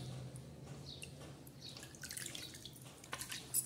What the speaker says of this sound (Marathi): आपण त्याला पुन्हा एका पाण्याने धुणार आहोत